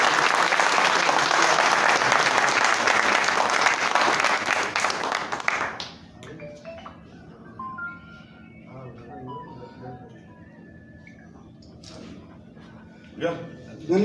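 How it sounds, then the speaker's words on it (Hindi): Audience at a traders' gathering applauding to encourage honorees on stage: dense, loud clapping for about five seconds, then fading into scattered voices and light room noise. "एक बार ताली ऐसी बजा दो जो इनका उत्साह बढ़ जाए।"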